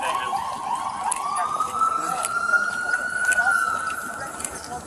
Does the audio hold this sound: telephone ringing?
no